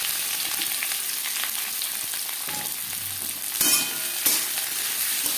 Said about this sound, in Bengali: পেঁয়াজ হালকা করে ভেজে নেব।